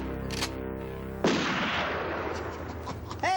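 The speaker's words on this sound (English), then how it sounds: "I'm shooting at people." Gunfire in a comedy sketch: a sharp burst of shots cuts off a tonal musical passage, followed by a noisy, crackling stretch and a brief voice at the end.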